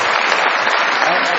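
Steady audience applause from a Pakistani comedy show crowd, a dense, even wash of clapping that holds at full loudness throughout the short stretch.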